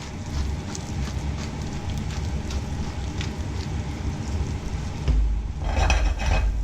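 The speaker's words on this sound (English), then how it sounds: "Get them coated in the butter. And let them saute." Maitake and shiitake mushrooms saute in butter with a steady, close sizzle, plus a few scraping and clattering stirs of the pan toward the end; no talking.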